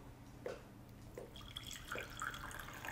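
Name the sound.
pouring a cup of coffee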